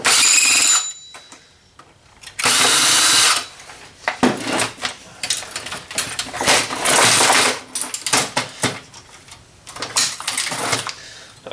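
A power drill removing screws from a printer whirs in several short bursts, some sustained for about a second, with clicks and rattles of small parts in between.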